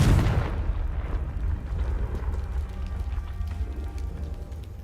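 A Confringo blasting spell in Hogwarts Legacy erupts as a heavy, booming burst at the start, then rumbles on in a dense, slowly fading roar for several seconds.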